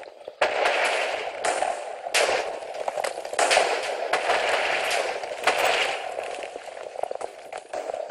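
Repeated TNT blasts in the game Bomb Lobbers, a string of sharp booming bursts roughly every second over eight seconds, loud and crackly with a constant noisy bed between them, no talking.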